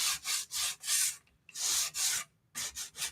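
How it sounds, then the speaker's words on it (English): Light hand sanding on wood with 120-grit paper: several steady back-and-forth strokes in a rhythm, close and clear, with a brief pause partway through. "just do a little light sanding"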